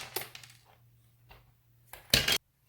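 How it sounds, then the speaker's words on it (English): Scissors snip through the metal pins of a wall-to-USB adaptor circuit on a countertop, giving a few faint clicks and then one louder, crisp metallic cut near the end. "I'm just going to take the scissors and snip them off."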